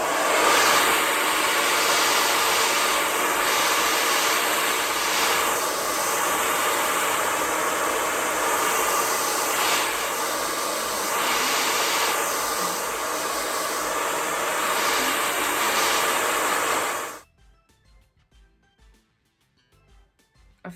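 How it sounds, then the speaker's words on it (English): A blow dryer drying glue on a lace wig roars with a loud, steady airy rush for about seventeen seconds, then cuts off abruptly into near silence. "So I'm just gonna dry it with the blow dryer."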